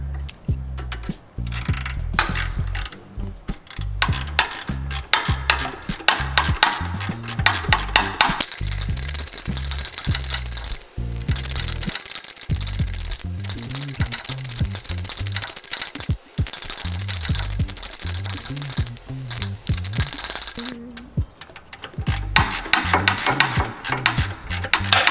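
A ratchet turns the jack screw on the alternator of a Nissan Xterra 3.3L, giving loud, fast, sustained clicking close up with only brief pauses throughout, and no speech.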